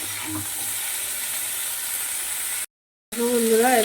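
Cauliflower frying lightly in a pan with turmeric and salt, a continuous close sizzle and hiss that cuts out briefly, then returns with a faint voice-like tone over it.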